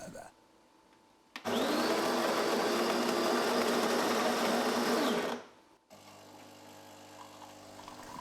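A coffee machine runs with a loud, steady grinding and whirring hum for about four seconds, starting abruptly and winding down, heard close in a quiet indoor room.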